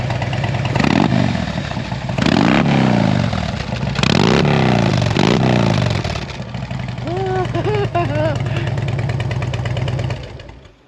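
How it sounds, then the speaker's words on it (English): A Harley-Davidson engine with 3-inch Rinehart exhausts revs loudly and close by in several deep throttle blips, settling into a lumpy idle between them, with a brief voice near the end. "Rev that one up."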